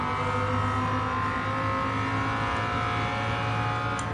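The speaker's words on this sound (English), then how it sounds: "I just bought this Viper and given it the supercharger." A supercharged Dodge Viper engine in Gran Turismo 7 holds a steady, droning tone at constant revs, a continuous mechanical hum with no breaks or shifts.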